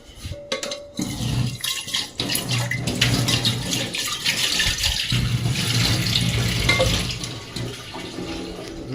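Water runs from a kitchen tap during washing up, a loud continuous splashing gush after a brief clatter at the start, close by with no talk.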